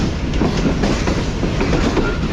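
The Tezgam passenger train, running from Karachi to Rawalpindi, speeds past Ring Road Junction station with loud, continuous rumbling and rhythmic clickety-clack of wheels over rail joints, heard from on board.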